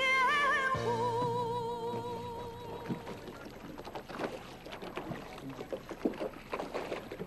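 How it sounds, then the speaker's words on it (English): A small boat glides across water in Shaoxing, with soft splashing and lapping against the hull after a brief tonal swell at the start. "the small boat glides smoothly over the silky expanse of water"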